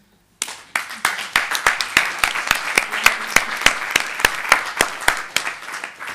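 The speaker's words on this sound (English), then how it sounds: "I would appreciate if we can clap hands to honor all these" A small seated audience at an international discussion panel claps in sharp, distinct hand claps, starting suddenly and continuing in an uneven but steady rhythm, fairly close.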